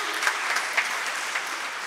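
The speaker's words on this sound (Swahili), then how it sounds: "Naomba mpigie makofi mama." Audience applause fills a hall at a mental health presentation at a medical university in Tanzania, a steady, fairly loud clapping with a few sharper claps standing out.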